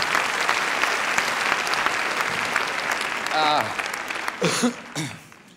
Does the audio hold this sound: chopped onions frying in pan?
no